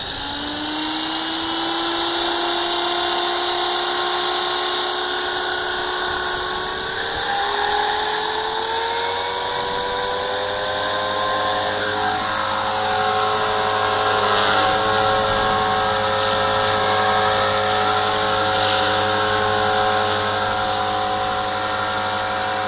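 A V450D01 fixed-gear RC helicopter's motor and rotors whine loudly and steadily, pitch rising then settling as it hovers nearby for a long stretch.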